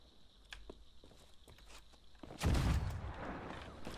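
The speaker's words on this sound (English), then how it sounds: "I hear cannon shots," Cannon shots in a sailing video game, a heavy booming blast that erupts partway through and rolls on with a rumbling tail, preceded by lighter scattered thumps and clatter over a low background.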